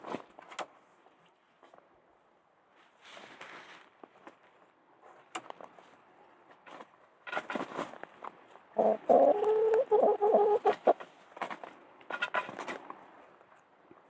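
Egg-laying chickens cluck and squawk at close range in bursts, with a louder flurry of calls in the middle, plus some rustling and movement around them.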